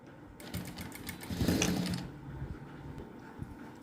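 A sewing machine stitching a straight seam on a blouse panel runs in a steady mechanical whir for a few seconds, fairly quiet and close, swelling briefly in the middle before easing off.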